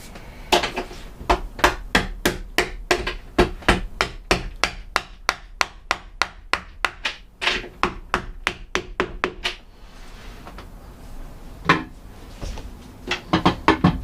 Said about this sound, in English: so I can mortise in the strike plate